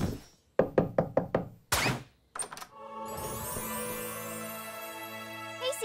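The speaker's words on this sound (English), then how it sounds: "Even her knock sounds cool." A quick run of about five sharp knocks on a door in an animated kids' show, followed by heavier thumps and a rising swell of music.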